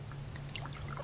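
Water pours briefly into a container in the Subsistence survival game, a short, soft, continuous trickle heard alone.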